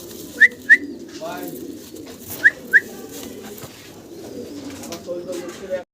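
Lahori pigeons in a loft call over a low, steady room background, with two pairs of short, sharp notes near the start and a soft murmur of voices throughout.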